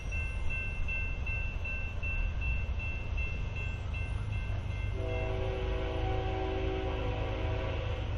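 A fast freight train nears a level crossing with its gates coming down. A steady heavy rumble runs throughout, and a loud sustained multi-tone horn blasts in about halfway through and keeps sounding to the end.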